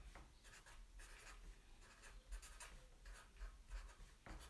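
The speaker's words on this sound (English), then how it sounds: "I'm just going to write down my 7 times table." Pen or pencil writing a times table by hand, a close, quiet run of scratchy strokes in short bursts with brief pauses, with no talking.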